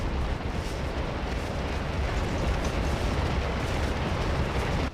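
Artillery fire in the Scourge of War battle game builds into a dense, continuous rumbling roar of cannon blasts that stays loud and steady throughout.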